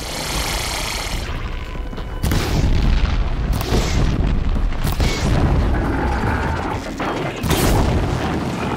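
Blaze canisters burst into fire in Horizon Zero Dawn with loud, booming explosions and roaring flames, several heavy blasts rolling over one another close up, without speech.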